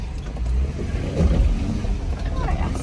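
Jeep Liberty on 28- to 30-inch tires crossing a flooded river on the Goat Trail in North Carolina in two-wheel drive, with a steady engine rumble and water churning throughout, wheels spinning through the crossing.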